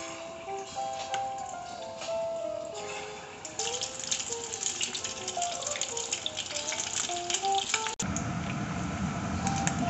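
Pieces of corn malai are lowered into hot oil in a heated kadai and sizzle and bubble softly. Brief squishing sounds and faint background noise run through it, and no one talks.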